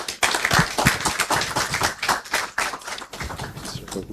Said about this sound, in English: Once again, a round of applause for Mr. Waziri Adio, Executive Director